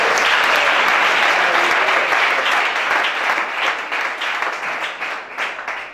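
Loud, dense applause from a church congregation during a deliverance service, sustained and close, gradually thinning into more distinct rhythmic claps toward the end.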